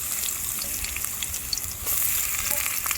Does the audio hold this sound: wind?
no